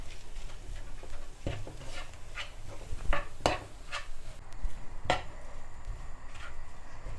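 A vegetable mixture for Sri Lankan vegetable rolls is mashed in a pot, giving irregular metallic clinks and scrapes of utensil against cookware, close and moderately loud, with no voices.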